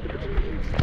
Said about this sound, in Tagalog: Daming ibon. Klaseng ibon.